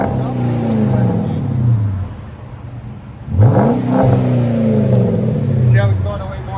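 A 2013 Chrysler 300 C with the 5.7L HEMI V8 and Magnaflow Magnapack exhaust revs up and settles back twice, a deep burbling note rising and falling close by, with voices talking over it.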